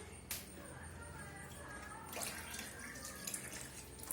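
Tap water running steadily in a home kitchen while tea is being made, a continuous hiss with a few splashy bursts near the end, fairly quiet and without talk.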